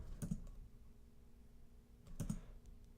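Two short, quiet bursts of clicking keystrokes on a computer keyboard, about two seconds apart, as a command is typed into a terminal, with no voices.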